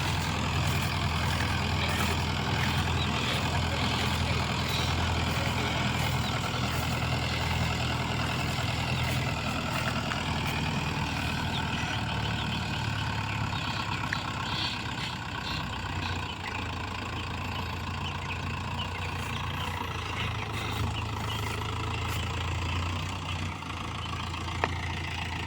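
A farm vehicle's engine runs steadily in gear, rumbling low and continuous on a rough, potholed field road, heard close with no talking over it.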